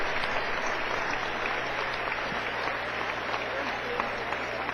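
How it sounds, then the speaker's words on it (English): Sustained applause from the crowd at a 2011 Class 1A Division 2 state championship football game between Greeley County and Hope, a standing ovation filling the whole stretch as a dense, steady roar of clapping. "getting a standing ovation from the crowd here"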